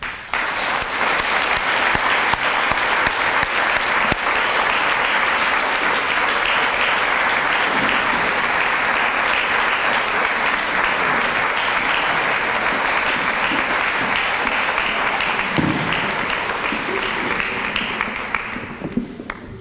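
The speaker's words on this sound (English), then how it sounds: "Please give a very well-deserved round of applause to Newman Monson Architects." Sustained applause from an audience at a human rights awards breakfast, honoring the recipients from an architecture firm; steady dense clapping for nearly twenty seconds, fading out at the end.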